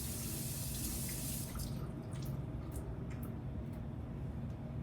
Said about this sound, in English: So let's go ahead and rinse.